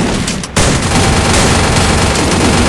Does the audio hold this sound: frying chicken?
no